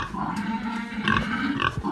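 Ten-day-old piglets grunting and squealing up close, a busy cluster of small snorts with a few sharper squeals.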